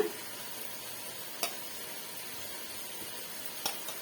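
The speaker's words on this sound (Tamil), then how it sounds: "இப்ப வந்து ஒரு முறை நல்லா இது போல மிக்ஸ் பண்ணி விட்டுக்கோங்க" Cooked rice being mixed in a pan for tamarind rice, giving a soft continuous sizzle with two sharp utensil scrapes or taps, quiet and close with no talking.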